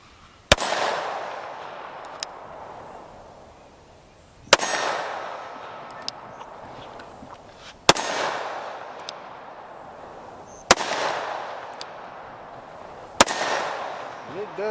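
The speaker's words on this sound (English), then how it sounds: "we're gonna shoot 5 rounds" A Taurus Judge Public Defender revolver fires five .410 rounds in single action: five loud, sharp reports spaced a few seconds apart, each trailing off in a ringing echo.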